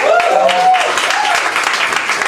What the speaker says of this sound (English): And I think it needs a massive round of applause.